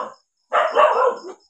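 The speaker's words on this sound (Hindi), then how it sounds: "अभी कुत्ते ने भौंका" A dog gives a loud, close bark, a single rough burst lasting about a second, heard alone after the tail of an earlier sound.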